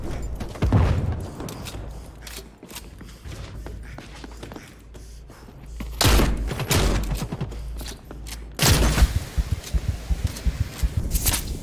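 Grenade blast in The Cycle: Frontier, a loud broadband boom around six seconds followed by another heavy burst near nine seconds, amid scattered gunfire, footsteps and rustling.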